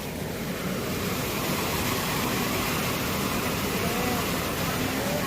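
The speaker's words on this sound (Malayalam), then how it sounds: "മറിപ്പുഴ ഉള്ളൊരു വെള്ളച്ചാട്ടം കേട്ടോ" Rushing water from the Marippuzha waterfall during heavy rain, a dense, even roar filling the whole stretch, moderately loud with no clear voices.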